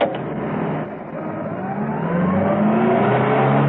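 A car driving as a radio drama sound effect, a steady engine drone that rises in pitch as it accelerates, close and continuous with no voices.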